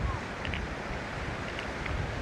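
Strong wind buffets the microphone in a small town square, a steady low rumbling roar with gusty swells, and a few faint distant sounds underneath.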